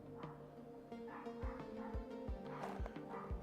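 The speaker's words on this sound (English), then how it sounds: "Neighbor's dog is out there barking." A neighbor's small Chihuahua barks outside, a string of sharp yapping barks and whimpers at moderate distance, coming through an open window over faint room hum.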